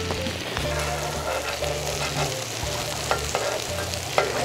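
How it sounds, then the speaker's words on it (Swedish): Butter melts and sizzles in a frying pan with a steady, close crackle and spatter, with occasional sharper pops above a low rumble. "Och i detta läget här så vill jag ha i lite smör också som får smälta ner här."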